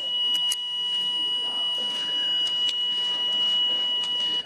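A fire alarm sounds during a Sky news broadcast's monthly drill, a steady high-pitched electronic tone with sharp beeping bursts, continuous and loud throughout.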